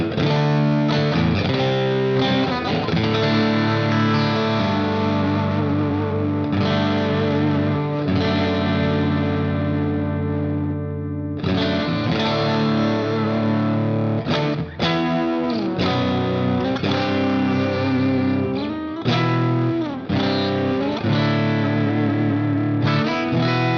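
Electric guitar played through a Quad Cortex clean preset, with effects such as chorus and echo. Chords and melodic lines ring continuously at full volume for the whole stretch, without any talking.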